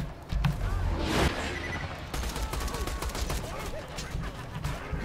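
Rapid bursts of turret gunfire in a shooter game, a loud heavy blast early on followed by a steady stream of quick shots and clattering impacts for several seconds.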